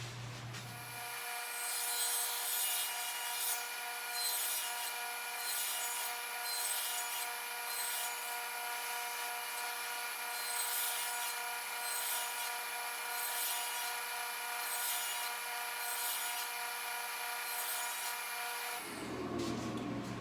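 A handsaw cuts steadily through several clamped wooden garden-trellis pieces at once, close and continuous for about eighteen seconds, each stroke blending into an even, rasping rhythm.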